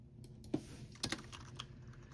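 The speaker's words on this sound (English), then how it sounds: "Don't mind my clicky keyboard." Clicky computer keyboard keys tapped in a few quick bursts at close range, sharp individual clacks with short pauses between them over a low room hum.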